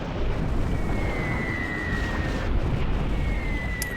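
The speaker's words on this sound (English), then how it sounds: "We're starting to take out those as well with those ship missiles" Ship-launched missiles striking targets in a strategy war game, heard as a dense, continuous rumble of overlapping explosions with a faint high whine crossing over it, loud and sustained throughout.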